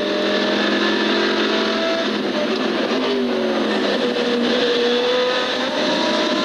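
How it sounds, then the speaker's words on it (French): GT race cars, a Maserati and a Corvette, roar around the Magny-Cours circuit, a steady blended engine drone with shifting pitch from several cars passing at a distance, heard under continuous race-broadcast ambience. "cela chauffait par contre au niveau de la quatrième place, avec la Corvette de Mike Eisemann soumise à une forte pression de la deuxième Maserati Vitaphone"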